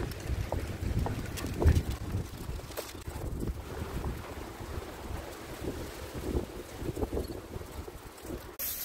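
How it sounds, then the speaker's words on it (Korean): Strong wind gusts buffet the microphone outdoors at Wolseonpo port on Gyodong Island, a steady low roaring rush with no voices. "바람이 너무 많이 부니까"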